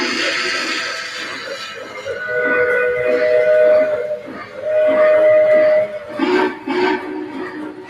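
A model train runs on a home layout, a steady mechanical rumble with tonal whistle-like hums and rhythmic clatter, fairly loud and continuous throughout.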